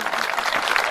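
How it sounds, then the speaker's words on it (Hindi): A brief burst of crowd clapping at a Hindi comic poetry gathering, a close, dense patter of many hands lasting about a second. "एक बार जोरदार तालियां बजाकर बताइए कि आप सुन रहे हैं।"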